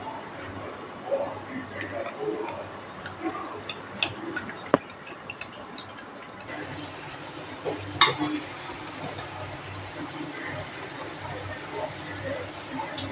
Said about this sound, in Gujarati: બીજા ગોટા ફ્રાય કરી લેવું।